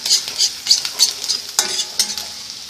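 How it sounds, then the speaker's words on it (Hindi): Chopped garlic sautéing in a very hot kadai over a fast flame, with a steady close sizzle and repeated scraping stir strokes in an irregular rhythm, no voices. "One tablespoon finally chop garlic saute करेंगे।"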